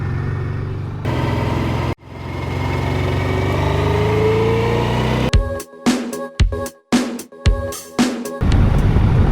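A heavy Honda 700 Deauville motorcycle runs steadily on the road, with a loud, continuous engine drone. Partway through, the sound breaks into several short, choppy bursts, then settles back into a steady rumble.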